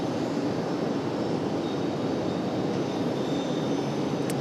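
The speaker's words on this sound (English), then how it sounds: "777-200ER. This one here, 26 years of age, delivered in February of 2000." A Boeing 777-200ER jet airliner, 26 years old and in Lufthansa livery, gives off a steady, broad engine roar at an airport, constant in level throughout with no voices.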